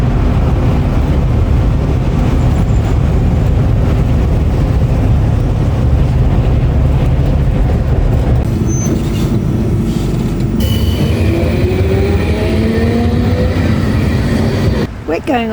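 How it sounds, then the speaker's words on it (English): Loud, constant rumble inside a moving tram in the Netherlands, with wheels squealing on the rails toward the end before the sound briefly cuts out. "We're going on a tram."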